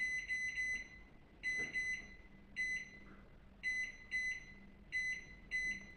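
Electronic oven timer beeping while preheating is set, with both-side heat and fan; high, sharp beeps come in quick pairs and triplets with gaps between, fairly faint against a quiet kitchen background.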